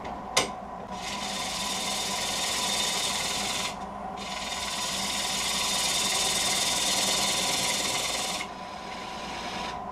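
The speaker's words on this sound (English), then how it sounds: "To cut in the tenon, it felt more comfortable to work from the other side with the lathe in reverse." A wood lathe runs in reverse as a tool cuts a tenon on a large bowl blank, giving a steady rasping, scraping drone in two long passes after a sharp initial knock.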